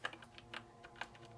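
Keys pressed on a keyboard attached to an old telephone in an abandoned hotel, a few faint, quick clicks in an uneven rhythm.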